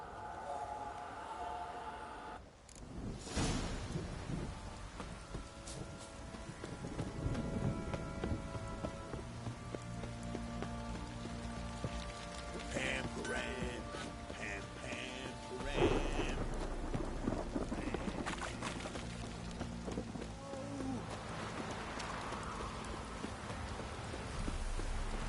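Steady rain patters on a surface throughout, with a sharp crack and rumbles of thunder breaking through the downpour.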